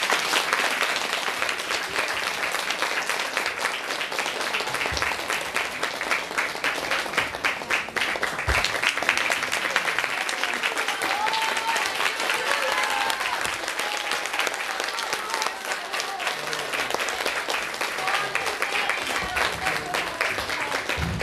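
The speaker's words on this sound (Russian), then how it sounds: "Аплодисменты." Sustained applause from a church congregation at an ordination service, a long, dense wash of clapping hands that stays steady and loud throughout, with faint crowd murmur underneath.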